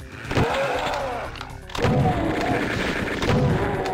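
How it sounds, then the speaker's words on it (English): Chaingun in the video game Doom 2 firing in rapid bursts, loud, dense and continuous, with heavy booming impacts underneath. "this chain gun is really dangerous"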